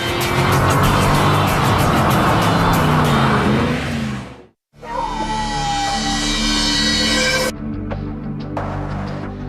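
A Ford Mustang being driven on a desert road near Surprise, Arizona, a loud close engine roar that cuts off abruptly, then returns as a steady drone with a rising whine, before dropping to a quieter hum.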